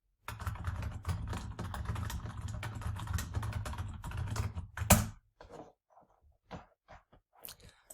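Rapid typing on a computer keyboard, a continuous run of close, crisp key clicks for about five seconds, then a few sparse isolated taps trailing off.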